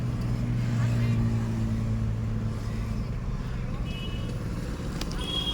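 Four-wheeled car driven slowly by a learner, a steady low engine drone with faint road noise throughout, heard close and constant, with a person talking over it.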